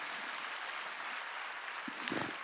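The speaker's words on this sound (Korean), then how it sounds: "박수 칠려면 치고 말려면." A church congregation claps during a Sunday worship service, a steady, fairly faint wash of hands that continues throughout, with a few slightly louder claps near the end.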